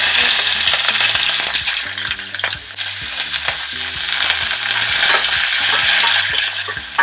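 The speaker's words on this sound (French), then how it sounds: "Donc, on laisse brunir les oignons." Onions sizzle loudly in oil in a hot pan, a steady bright crackle with occasional scraping and stirring knocks, no voices.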